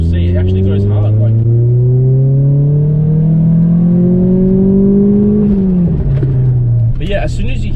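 A car with an SR20DE engine accelerating hard: a loud, close engine note rising steadily in pitch as revs climb, then dropping briefly at a gear change before pulling again, with a voice speaking over it.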